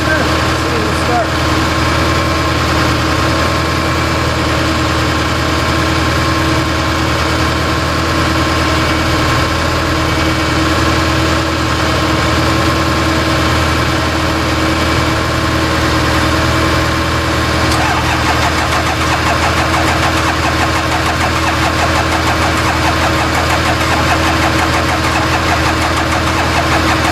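A lifted 4x4 Ford van with a 6.0 Powerstroke turbo diesel runs on jumper cables from a wrecker after refusing to start, giving a loud, steady idle clatter throughout while people talk.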